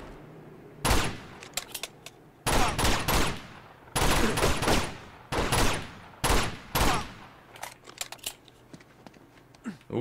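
Sustained automatic gunfire in Uncharted 2, coming in repeated loud bursts of rapid shots separated by brief pauses, with a faint voice between volleys.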